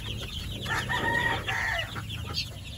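Young Dekalb White chicks, about six weeks old, peeping and clucking softly close by, a busy overlapping chorus of short calls with no talking.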